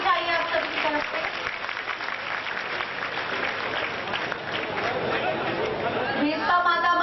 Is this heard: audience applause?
yes